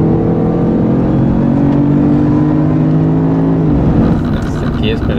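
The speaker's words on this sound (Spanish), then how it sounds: "ahora sí puedes empezar a acelerar." A Jaguar car accelerates on a track, its engine note climbing in a steady drone with rising tonal bands before easing off near the end.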